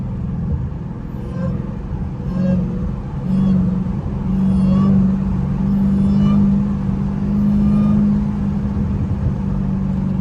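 A loud Dodge Hellcat engine pulls hard in third gear, a deep, close rumble with revs rising in long surges and no speech over it.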